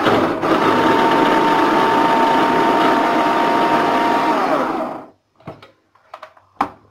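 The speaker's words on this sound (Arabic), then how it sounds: "هنفرمها الاول في محضره الطعام كده لوحدها" A food processor chops banana pieces on its own, a loud, steady motor whir for about five seconds that spins down and stops, followed by a few faint clicks and knocks of the bowl and lid.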